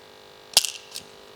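A screwdriver pushes an old bulb out of the glove box light housing in a VW Scirocco, giving one sharp plastic click followed by a faint second tick in an otherwise quiet cabin.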